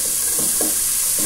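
Garlic frying in a pan, kept in a steady, close sizzle with a few soft stirring scrapes and no voices.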